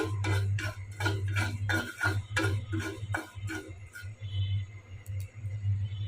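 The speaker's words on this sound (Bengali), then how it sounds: "এখন আমি কালি জিরাটা বেজে নিচ্ছি" Nigella seeds (kalijira) being dry-roasted in a pan, giving off fast, sharp ticking and clicking pops against a steady low hum, fairly close and without any talking.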